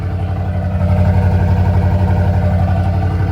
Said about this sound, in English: I mean, it's pretty loud, especially for a stock exhaust.